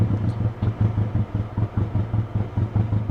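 Misfiring Honda car engine with 106,000 miles idles in a steady low rumble, a rhythmic uneven chug pulsing about four times a second with light clatter on top, close and continuous.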